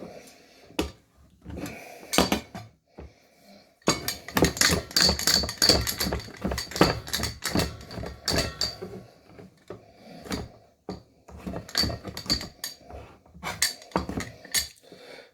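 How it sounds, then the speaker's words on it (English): A loose, rattling kitchen knife roughly chopping on a board, making rapid clattery, metallic chops in uneven bursts with short pauses, close and fairly loud, with no talking. "Yes, I know this knife rattles. Something came loose in there"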